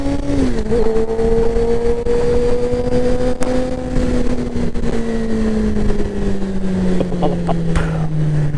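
Suzuki GSXR 600 motorcycle with an aftermarket exhaust, its engine note held steady and then sliding slowly down as it rolls off, with a few sharp exhaust pops near the end over windy outdoor noise.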